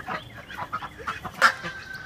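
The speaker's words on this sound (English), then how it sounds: "I guess I'll go ahead and let the ducks out." Backyard ducks quack repeatedly as they are let out, several short nasal calls in an uneven rhythm, fairly close, with one louder call near the end.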